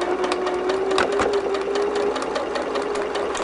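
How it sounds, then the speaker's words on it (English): A sewing machine stitches steadily through thick layers of pieced quilt block, a close, continuous mechanical whir with a fast rapid rhythm, a faint tone running beneath it, and no voices. "keep it guided to go straight through the machine stitching there"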